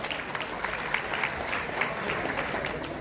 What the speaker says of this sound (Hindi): उनको भी बहुत सारी बधाई और तालियां